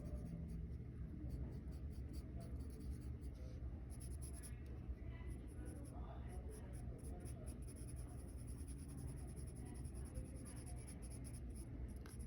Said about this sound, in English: I've already added a little bit of graphite there, and now I'm just darkening it